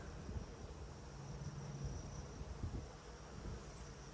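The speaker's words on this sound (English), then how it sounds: "good looking number of bees here between these frames. Quite a bit of activity on the outside here." Honey bees hum in a continuous, faint buzz around the frames of a nuc hive outdoors, steady and unbroken with no talk over it.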